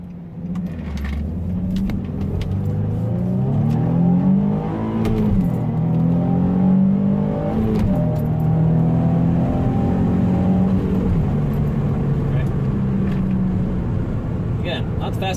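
A yellow 2005 Nissan 350Z Roadster convertible, Grand Touring trim, heard from inside as its engine hums and climbs through several rising revs as it accelerates and shifts during a short drive, loud and steady throughout.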